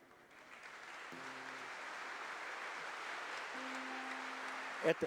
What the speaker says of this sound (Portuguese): vamos aplaudir com muito carinho